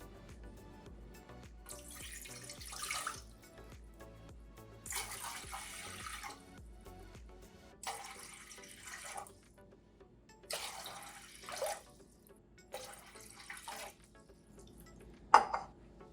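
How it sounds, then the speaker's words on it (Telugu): Water poured into a bowl in several separate bursts of splashing and trickling, each lasting about a second, with quiet gaps between them and a brief knock of the bowl near the end. "ఈ బౌల్లోకి నేను ఈజీగా ఒక 5 గ్లాసెస్ ఆఫ్ వాటర్ యాడ్ చేస్తున్నాను."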